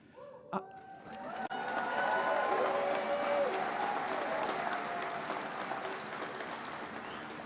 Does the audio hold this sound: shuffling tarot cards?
no